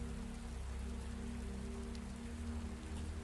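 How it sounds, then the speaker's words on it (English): Steady rain drums on the steel deck of the Queen Mary, moored in Long Beach Harbor at night, a dense, even hiss of drops with a low constant hum beneath, no voices. "The rain falls tonight on the Queen Mary's deck, just as it has fallen for decades in Long Beach Harbor. The same rhythmic drumming on steel."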